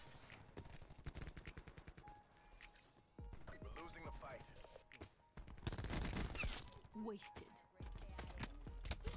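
Rapid gunfire bursts in a Black Ops 4 multiplayer match, repeated shots and automatic fire crackling loudly throughout, with a player talking over the shooting.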